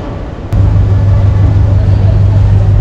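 Passenger train travelling between Siliguri and New Mal Junction, heard from inside a compartment as a loud, steady low rumble and drone that comes in after a brief quieter start.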